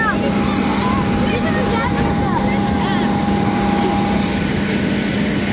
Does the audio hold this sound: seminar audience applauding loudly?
no